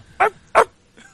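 A person imitating a dog, giving two short, loud barks about a third of a second apart, followed by a faint trailing sound.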